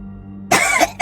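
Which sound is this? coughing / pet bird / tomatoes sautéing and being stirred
coughing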